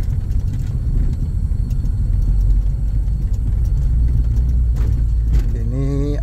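A Toyota Soluna runs on a test drive after an engine tune-up and decarbonizing treatment, giving a steady low rumble from inside the cabin that swells slightly as it moves, with a faint voice near the end.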